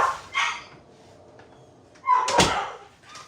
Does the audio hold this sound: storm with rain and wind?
no